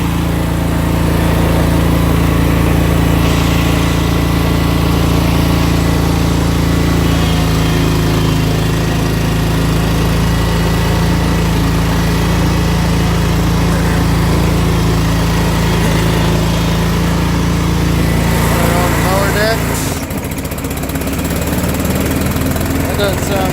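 A 2019 Bad Boy Rogue mower with a 993cc Vanguard EFI engine, which has motor problems, runs at full throttle with a loud, steady, close drone that dips briefly near the end. Some talk may sit under it.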